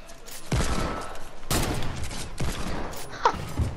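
Sniper rifle fire in the game Fortnite cracks out as several sharp shots about a second apart over a faint background, with no clear talking.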